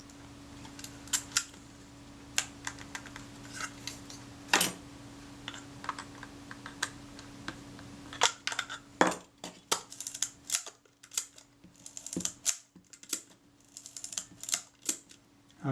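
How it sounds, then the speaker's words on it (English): A Kodak Retina IIa camera, partly dismantled, has its shutter cocked and fired repeatedly, giving sharp close mechanical clicks and snaps in uneven bursts on a quiet bench. "Okay, so that's all cocking and firing nicely."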